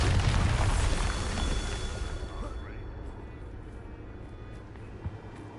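A Bombarda spell blast in Hogwarts Legacy bursts loudly at the start with a deep rumbling boom, then decays into a long fading roar with a faint thump near the end.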